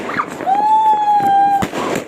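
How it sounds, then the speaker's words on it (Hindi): Sky rocket firecracker launched during Diwali celebrations, a loud rising whistle that holds steady for about a second, followed by a sharp burst, with crackling outdoor background noise. "और अब टाइम था स्काई पटाखा छोड़ने का, जिसका अपना एक अलग ही मज़ा होता है"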